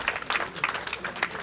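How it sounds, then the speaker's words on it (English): An audience in a room breaks into brief, scattered applause, a handful of distinct clap bursts spread across a moment, moderately loud and close. "science gets applause in this room"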